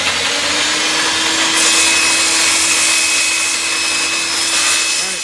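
A saw cuts through wood in a steady, loud rasping run with a constant motor hum beneath, surging briefly partway through, with no voices.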